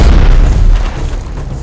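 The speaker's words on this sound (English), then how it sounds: "Fire all guns" Warship guns firing in the naval strategy game Strategic Mind: The Pacific, a loud deep boom with rumbling low-end decay filling the short moment, no talk over it.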